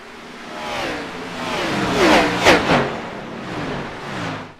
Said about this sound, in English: This car sounds so good coming around the track.